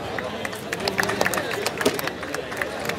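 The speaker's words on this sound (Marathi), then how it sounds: "जोरदार टाळ्या." A bodybuilding championship crowd applauds a runner-up during the prize announcement, with dense, continuous clapping and crowd babble filling the hall throughout.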